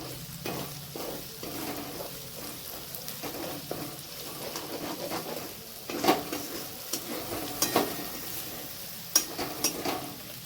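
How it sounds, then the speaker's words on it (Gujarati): Paneer curry is stirred in a pan, giving soft scraping and spoon knocks over a low sizzle, with irregular clinks growing sharper in the second half and no talking. "થોડી વાર હલાવી નાખતી."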